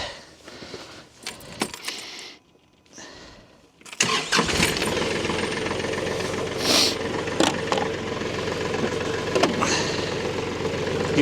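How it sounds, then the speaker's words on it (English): A Kubota tractor engine starts up and settles into a steady, loud nearby idle and run while it lifts a load of oak firewood, with brief jingling before the start. "let's see if the Kubota lifts it."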